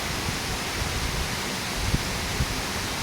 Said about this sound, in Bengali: এটা পাহাড়ের থেকে পানি নামছে, বৃষ্টির পানি